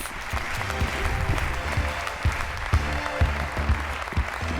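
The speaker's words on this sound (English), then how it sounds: "Please give him a massive round of applause" A festival opening-show audience applauds loudly and continuously, with crowd noise and a few heavier beats mixed into the steady clapping.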